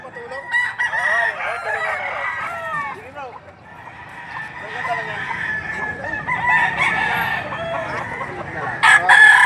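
Several chickens and roosters crow and cluck close by at a livestock auction market in Padre Garcia, Batangas, overlapping calls continuing throughout while people talk in the background.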